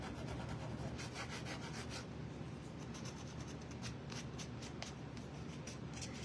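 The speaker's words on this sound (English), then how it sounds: "I'm just going to sand this just a little bit." Sandpaper rubbed over a small wooden manger tag kit piece, giving quiet, repeated scratchy strokes in an irregular back-and-forth rhythm, close up with no talking.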